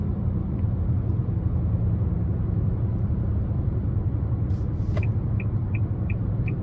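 Steady, loud engine and road rumble inside a 2023 Nissan Altima SR with the non-turbo 2.5 engine under light throttle, a constant drone with a few faint ticks near the end and no talking.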